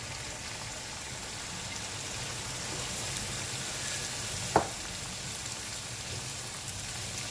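Peanuts fry in a generous amount of hot oil in a pan, giving a steady, even sizzle with one sharp clink partway through.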